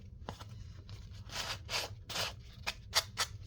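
Sandpaper wrapped around a sponge rubs across a surface in quiet, uneven strokes, a soft rasping scrape repeated several times with brief pauses between, heard alone without talk.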